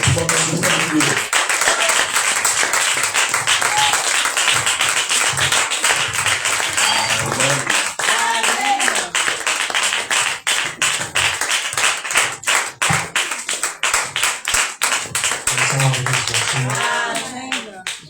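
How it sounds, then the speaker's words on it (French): A church congregation welcomes a visiting preacher with sustained clapping and cheering, dense rhythmic applause running throughout with voices calling out over it. "Alors on va, sous vos acclamations, recevoir le prophète de Dieu, Joseph Perfection."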